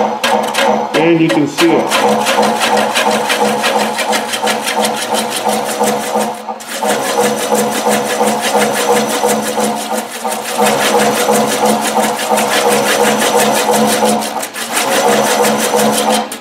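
A wood lathe spins a large platter while a scraper cuts shavings, giving a continuous close motor whir with a rhythmic scraping rasp. Someone talks over it.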